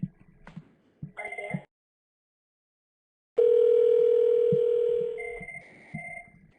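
Cisco CUCM phone line after dialing an extension through mobile voice access: short beeps, a pause of silence, then a steady tone lasting about two seconds, followed by a few brief tones.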